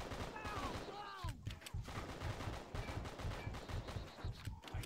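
Gunfire in the action game Just Cause: rapid bursts of shots and automatic fire throughout, moderately loud, with shouted voices and whistling sound effects early on.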